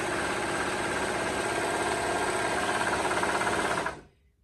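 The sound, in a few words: Brother serger sewing machine stitching a rolled hem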